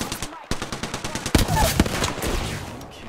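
Rapid automatic gunfire rattles through an Apex Legends firefight, a steady run of close, sharp shots followed by a few heavier bursts and a denser tail of fire. Game voice cues and other effects sit underneath.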